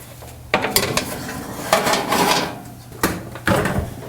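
Metal mini donut pans set down on top of another baking pan, making several sharp clanks and rattles in a burst, then a short pause, then two more clanks, close and fairly loud.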